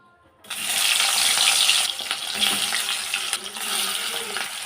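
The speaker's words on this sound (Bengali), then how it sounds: "এখন আমি মাছটা ভেজে নেব মাছগুলো সব ভাজবো" Pieces of rohu fish rubbed with turmeric and salt crackle and sizzle in hot oil in a wok, a loud, steady frying hiss that starts abruptly and runs continuously with faint clinks.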